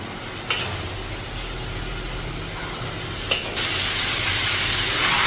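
Chicken pieces drop into a pan with chilli powder and turmeric for chicken curry and set off a loud, continuous hissing sizzle. A couple of brief clatters come through, and the sizzle swells toward the end.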